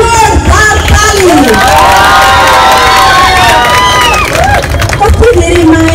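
A large crowd at a book-tour event in Dharan loudly cheers, shouts and whistles for the arrival of guest Haribansha Acharya, in a close, sustained roar.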